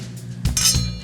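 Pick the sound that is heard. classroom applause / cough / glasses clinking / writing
glasses clinking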